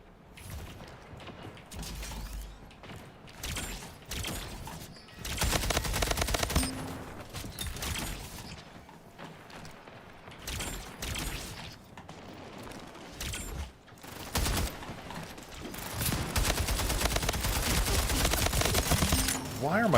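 Rapid bursts of video game shooter gunfire crackle in dense, loud volleys that start and stop repeatedly, with mechanical reload clicks between, and a player talks at times.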